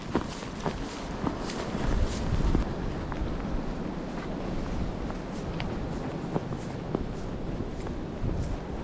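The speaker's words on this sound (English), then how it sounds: "The winds are whipping." Strong winter storm wind whips across the summit of Table Mountain in the Catskills, a loud steady roar with gusty buffeting against the microphone and a few faint footsteps, no talking.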